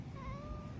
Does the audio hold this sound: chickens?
no